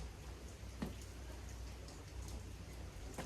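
Steady rain falls outside a workshop, a constant faint hiss of drops with a couple of slightly louder splashes, no voices.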